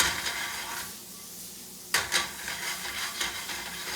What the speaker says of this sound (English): So I'm just going to go ahead now and melt the butter to coat